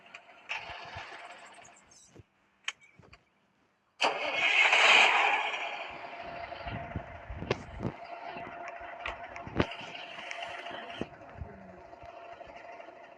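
A truck engine in a Roblox truck game cranks and starts with a loud burst, then settles into a steady mid-pitched idle, with a few sharp clicks and knocks over it and no talking.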